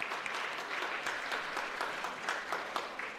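A church congregation at a Lunar New Year thanksgiving service claps steadily, a dense wash of applause from many hands filling the room without pause.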